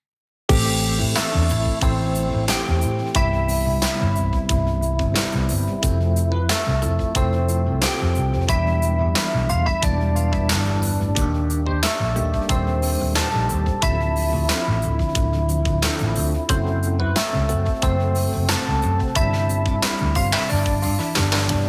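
Electric piano and synth tracks play together in a full, dense mix with steady rhythmic chords and bass running continuously, loud and without voices.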